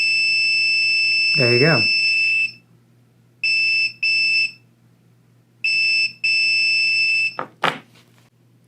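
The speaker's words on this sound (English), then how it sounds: "the multimeter beeps" Steady high-pitched electronic beeps from a multimeter continuity test on a reed switch near a magnet, repeating in several separate bursts, loud and close, with a short spoken phrase in between.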